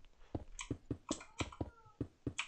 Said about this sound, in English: Mango, stop meowing